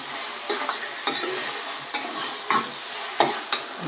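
Food stirred in a frying pan with a steady sizzle, a spatula scraping and clinking against the pan about eight times in an uneven rhythm, close and fairly loud with no talking.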